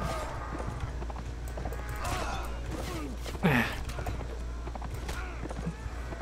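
Horses in a Mount & Blade Warband battle, hooves clip-clopping in a steady rhythm beneath a busy mix of game combat noise, with a brief sharp whinny-like cry rising midway.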